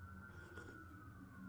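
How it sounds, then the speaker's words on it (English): A faint, steady siren wail drifts from far away, a sustained tone over low background hum. "And there's the sirens."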